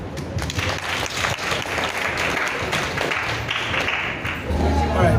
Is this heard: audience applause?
yes